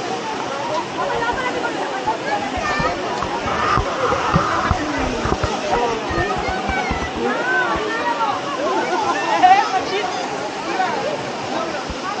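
A crowd of tourists chatters at a waterfall, Rainbow Falls near the Double Root Bridge, their voices blending into a steady babble over the constant rushing of falling water, close and fairly loud throughout.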